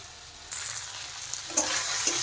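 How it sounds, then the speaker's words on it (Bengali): Taro stolons (kochur loti) sauté in a pan with a soft, fairly quiet sizzle that swells after a moment. It has a couple of faint stirring scrapes near the end and no talk. "এদিকে দেখেন লতি কিন্তু ভালোভাবে কষানো হয়ে গেছে।"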